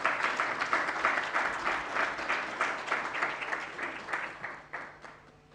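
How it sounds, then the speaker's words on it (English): Audience at a university research and innovation festival applauds a keynote speaker, brisk rhythmic clapping from a sizeable crowd that gradually fades out. "A round of applause, colleagues."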